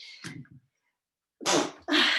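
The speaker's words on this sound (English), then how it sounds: "I'm sneezing" Two loud, sharp sneezes burst out close by after a brief soft vocal sound and a pause, the second following quickly on the first.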